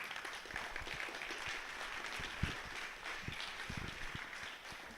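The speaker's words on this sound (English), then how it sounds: "big applause to the whole team" Applause for an event team at a blockchain conference, a steady wash of many hands clapping at moderate distance and fairly soft, with scattered sharper claps standing out throughout.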